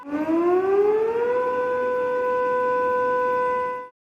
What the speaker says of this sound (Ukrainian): У Севастополі оголошували повітряну тривогу